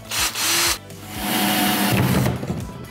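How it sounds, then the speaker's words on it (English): A drill bores a circular hole into the bottom of a plastic hydroponics tray, giving close, loud whirring bursts: a short one, a brief pause, then a longer sustained grinding run. "We need to drill a circular hole into the bottom of each one of our trays"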